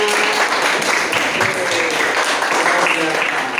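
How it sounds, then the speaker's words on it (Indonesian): Students in an Indonesian classroom lesson clap together, a steady, moderately loud round of applause running throughout with faint voices mixed in. "tepuk tangan buat kalian semua"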